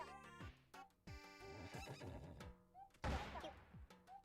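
A horse in the Switch game Miitopia neighs in a short series of whinnies with a hoof clop, set against game music and heard faintly.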